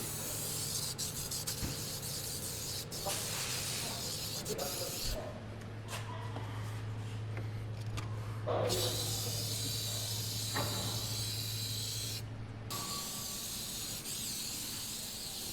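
A spray can hisses in long bursts, close and steady, with short gaps between sprays and a low hum underneath.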